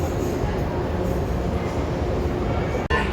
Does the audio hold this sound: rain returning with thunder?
no